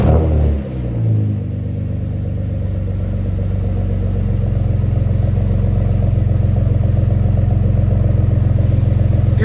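A 500 hp Saleen Ford Explorer with all-wheel drive and straight pipes idles loud and close, a deep steady rumble that settles in after a brief dip at the start and carries on alone.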